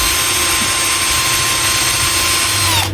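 A brushed cordless drill from Total runs at full speed throughout, giving a loud, steady high whine with a constant motor hum, then cuts off abruptly at the end.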